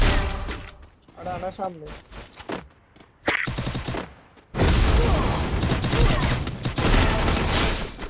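Rapid sniper and automatic gunfire crackles through a Krul Gaming PC shooter match, bursts of shots separated by short lulls before a long, dense barrage fills the second half, with a voice speaking briefly over the action.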